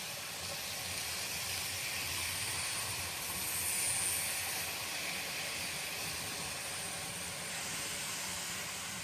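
Model trains being run in at higher than usual speed along the track, a continuous whirring hum and soft hiss, steady and moderately quiet throughout.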